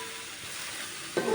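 A low, even sizzle of potatoes frying for a rohu fish curry, quiet and steady, ending in a brief louder burst as the pan is stirred.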